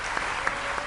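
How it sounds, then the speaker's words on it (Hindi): An audience at a Ram Katha religious discourse claps together in dense, steady applause that fills the whole short moment. "अनिल गांधर्व साहब, अब नहीं रहे, लेकिन उनके लिए भी मरणोत्तर तालियां।"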